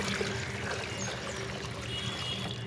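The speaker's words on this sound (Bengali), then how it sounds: "এখন আমি এখানে যতটা পরিমাণ ভিজানো আছে ততটা পরিমাণ আরও জল দিয়ে দেবো, দিয়ে 1 বালতি জল করে দেবো।" Water pours in a steady stream into a bucket of soaked cow dung to make liquid garden fertilizer, a continuous close splashing flow with no voices.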